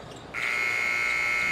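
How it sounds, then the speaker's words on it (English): A basketball shot clock buzzer sounds during a men's Ecuador versus Argentina game, a loud steady electronic tone that starts abruptly and holds unbroken over faint arena noise. "And the shot clock buzzer."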